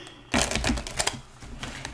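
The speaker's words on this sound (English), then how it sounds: "let me finish shuffling" A deck of tarot cards being shuffled up close, a dense run of rapid riffling clicks and flutters beginning abruptly and continuing for most of two seconds with no talking.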